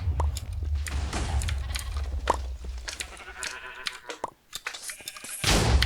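Sheep bleat in the Sheep Wars video game amid clicks, thumps and game effects, with a low rumble running underneath; no voices.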